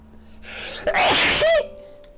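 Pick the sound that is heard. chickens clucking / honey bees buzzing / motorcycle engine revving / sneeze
sneeze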